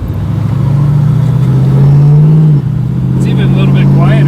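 A 1974 AMC Hornet fitted with Edelbrock EFI accelerates with a loud, close engine hum that rises in pitch, dips briefly, then carries on. Voices can be heard over it.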